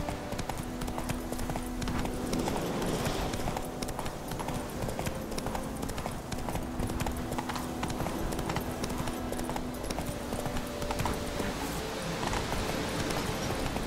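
Roach, the horse in The Witcher 3, trots steadily in a game, an even clip-clop of hooves at close range, with no talking over it.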